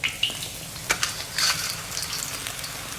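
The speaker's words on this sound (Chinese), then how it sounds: "把鱼的两面煎成金黄" Silver carp frying in oil until golden on both sides, a steady close sizzle broken by a few sharp spatters and crackles.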